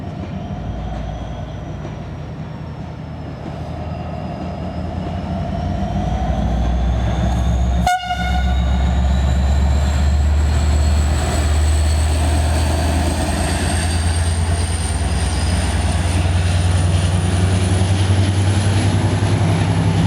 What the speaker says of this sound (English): it's a diesel loco hauled with some number of carriages